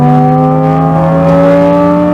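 A drift car's engine drones loud and close, holding a steady strained tone that climbs slightly as the throttle is fed in smoothly.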